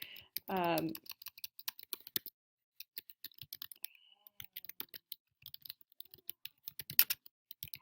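Computer keyboard typing, a scatter of light, irregular clicks and taps running through most of the stretch after a short tonal voice burst at the start, quiet and close.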